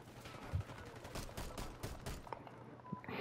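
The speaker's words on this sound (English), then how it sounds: "that pistol sound like it pack a punch" Pistol fire in Call of Duty Black Ops 6, a run of sharp, punchy gunshots in quick irregular succession, roughly a dozen reports, fairly close, with a brief quieter tail at the end.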